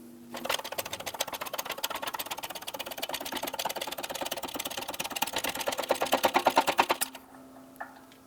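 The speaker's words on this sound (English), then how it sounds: "Right there I heard an audible difference in the press itself." A press forcing a wheel bearing into a Honda Accord steering knuckle gives a fast, steady mechanical clatter for about six seconds, pulsing harder toward the end before stopping abruptly, close and fairly quiet.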